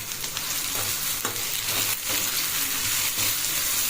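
Salted onions sauté in a pan for a green chilli kuzhambu, a close steady sizzle broken by a few scraping stirs of the spatula.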